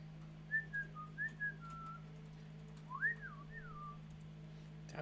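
A person whistles a few short, sliding tuneful phrases in two groups, faint against a steady low electrical hum, with no talking.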